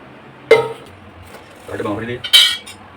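Two sharp metallic clinks of a spoon against dishes, close by, separated by a short stretch of quiet talk.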